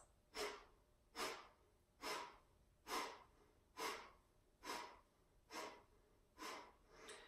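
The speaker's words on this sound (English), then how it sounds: "So breath of fire, we pump the belly with the out breaths." Breath of fire yoga breathing: nine rhythmic, forceful breath pulses at a steady pace of roughly one per 0.8 seconds, each a breathy, broadband whoosh close to the mic with soft inhales between.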